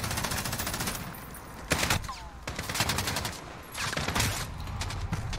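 Gunfire in the Call of Duty Modern Warfare video game comes as several bursts of rapid automatic fire with sharp single shots between them, moderately loud and crackling against a busy game background.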